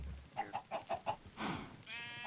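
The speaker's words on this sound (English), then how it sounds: "And I heard sad chicken sounds." Chickens in the Minecraft video game give a quick series of five short clucks, followed by a hissing burst and a buzzy tone, all faint within the game's background.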